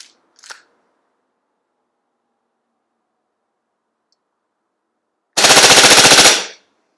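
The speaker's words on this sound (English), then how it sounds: "we will see how many shots we can fire by using just one CO2 cartridge" A Cybergun Desert Eagle .50AE CO2 airsoft pistol fires a rapid burst of shots, about a second of loud, tightly spaced cracks, after a brief faint click and long silence.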